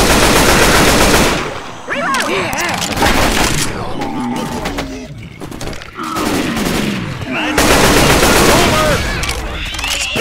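Machine gun fire in the video game Left 4 Dead 2 rattles in loud, dense bursts with booms, breaking off for a few seconds mid-way before resuming, while voices talk over it.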